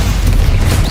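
Stupefy spell blast in Hogwarts Legacy, a loud, dense booming burst filling the whole moment with rumbling, close and forceful.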